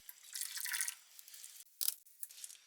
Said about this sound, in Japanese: フライパンにお湯を注ぎます